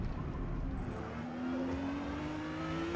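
A Porsche 911 GT2 in the Forza Motorsport racing game, engine droning steadily with a rising whine as it brakes hard for a right-hand corner at Kyalami, continuous and fairly quiet.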